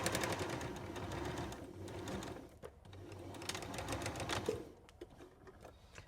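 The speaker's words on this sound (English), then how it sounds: "continue sewing that seam" A sewing machine runs steadily as it stitches a fabric seam, a close whirring chatter that pauses briefly midway and then resumes before slowing near the end.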